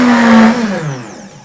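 Blender running on high as it purees a soft banana and fresh coconut dessert in a lidded jug, a loud steady motor whine that gradually slows and fades toward the end.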